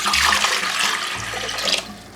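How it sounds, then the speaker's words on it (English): Water poured from a container into a glass jar, a continuous splashing, gurgling pour close by that runs steadily for about two seconds before easing off. "I have this glass jar and some water. I'll pour into it"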